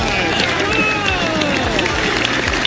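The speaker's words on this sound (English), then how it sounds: "Come on, give him a round of applause!" Audience at a Friday night political fringe show giving a round of applause, dense continuous clapping and crowd noise with scattered whoops, loud and steady throughout.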